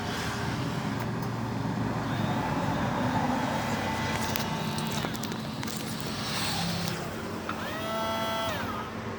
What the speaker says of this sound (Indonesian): Sobat ya, dengerin suara mesinnya.